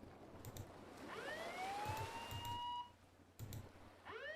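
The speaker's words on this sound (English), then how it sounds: "Unless do I press the alarm again?" An alarm siren in the Nancy Drew: Sea of Darkness video game wails in rising and falling sweeps over a steady low hum, cutting off briefly before starting again, fairly faint and with no one talking.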